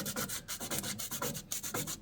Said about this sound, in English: And just gonna sand the bottom of it and then come across in different sections.